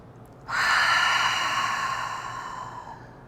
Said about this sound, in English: give yourself another cleansing breath